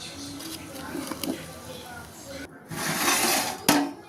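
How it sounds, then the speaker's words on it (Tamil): Biryani is stirred in a pot with soft scraping and light metallic clinks of a spoon, a brief louder clatter near the end, under intermittent talk. "பிரியாணியை நல்லா கலந்து விட்டுக்கலாம்."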